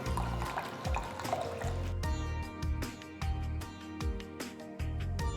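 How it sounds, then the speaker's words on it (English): Water sloshes and splashes over long grain basmati rice in a bowl, with dripping, trickling and gentle squelching at close range, recurring in short bursts as the grains are rinsed. "Just wash it a few times, pour enough water and soak it for 20 minutes."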